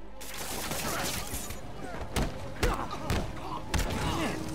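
Gunfire and heavy thuds from a Spider-Man video game fight, several sharp bursts and impacts spaced across a busy, loud game mix with voices underneath.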